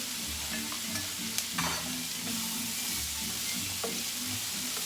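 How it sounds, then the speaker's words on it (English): Jambalaya ingredients sauté in a pan with a continuous dense sizzle, a few soft stirring scrapes rising over it, and a low murmur of background music underneath. "So we're going to let that saute for a little bit."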